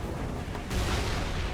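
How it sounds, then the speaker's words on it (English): Explosions in the Halo 3 video game, a dense booming rumble that swells sharply partway through and stays loud and continuous to the end, with no talk. "There's a lot of explosions."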